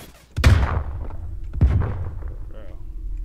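Two heavy rifle shots from snipers firing out of a house in a shooter game, each a loud booming crack with a long decaying tail, roughly a second apart.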